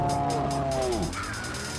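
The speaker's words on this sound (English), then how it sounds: "Oh my God, the cow!" A cow moos once, long and loud, in the Deer Simulator video game, a deep drawn-out low bellow that falls away, followed by quieter game ambience.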